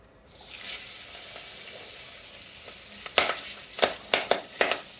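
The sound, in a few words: cabbage frying in oil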